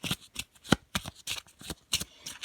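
Tarot cards are shuffled by hand in a quick series of crisp riffles and slaps, close and distinct, with short pauses between bursts.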